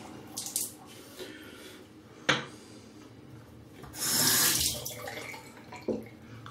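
A bathroom tap runs cold water into a sink during a wet shave, with intermittent splashing bursts and one longer stretch of flowing water, fairly quiet and close.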